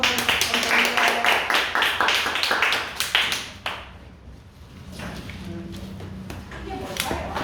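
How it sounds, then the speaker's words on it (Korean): Members of a church gathering applaud one another with a few seconds of brisk, close clapping. The clapping fades and a voice starts talking. "서로를 위해서 박수 한번 감사합니다"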